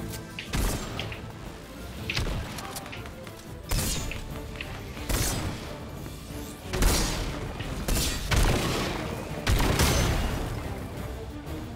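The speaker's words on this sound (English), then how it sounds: "Yeah, you keep shooting him." Gunfire in the Fortnite video game comes in repeated loud bursts and cracks several seconds apart over a busy game soundscape, with no talking.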